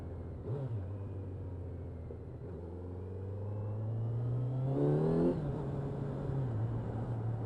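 Kawasaki Z900 motorcycle engine heard while riding, a steady drone that rises in pitch as the bike accelerates and then settles, with wind noise and no talking.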